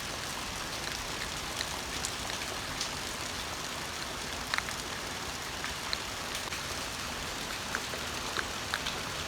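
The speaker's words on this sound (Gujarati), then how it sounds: "એકદમ મેં ચાલુ છે અટાણે" Heavy rain pouring down in Porbandar, a dense, steady roar of falling water with scattered sharper drops and splashes standing out now and then, and no voices.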